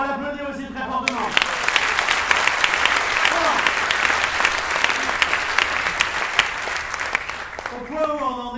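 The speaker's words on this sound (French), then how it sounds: "on va l'applaudir aussi très fortement" An audience at a theatre-forum evening event breaks into loud, sustained applause with crisp individual claps. A voice is heard briefly before the clapping and again as it ends.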